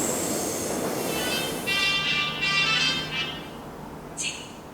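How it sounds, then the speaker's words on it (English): A train pulls into a station with a steady rumble of wheels on rail, rising metallic squeals and screeches, and a loud continuous roar close by. "My train is coming."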